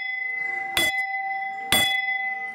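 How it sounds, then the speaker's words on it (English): Two bright metallic bell dings at Tokyo DisneySea, struck about a second apart, each sharp strike leaving a clear sustained ringing tone that fades slowly, with no talk over it. "Oh, bell. There's a ding."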